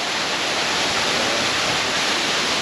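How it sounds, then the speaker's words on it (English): A small waterfall beside a bridge along a Glen Affric hill track pours in a steady, dense rush that stays loud and even throughout, with no voices over it. "Nice little waterfall over there."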